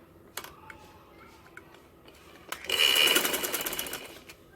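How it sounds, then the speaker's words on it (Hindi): A sewing machine runs a short burst of stitching on kurta fabric, rapid and even, preceded by a few faint ticks and clicks as the work is set, with no talk. "अब मैं इस साइड पे सिलाई स्टार्ट करूँगी"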